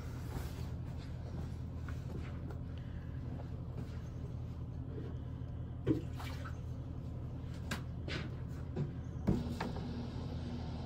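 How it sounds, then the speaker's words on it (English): Water flows steadily through a newly repaired refrigerator water line after the supply is turned on, a continuous hiss and rush with a few small knocks and clicks, close by, with no talking. "And now we'll go ahead and turn the water on and see if that did the job."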